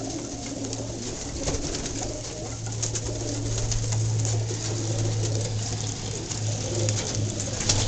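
Pigeons in an aviary cooing steadily at close range, a low continuous throaty murmur from many birds with soft fluttering and shuffling around them.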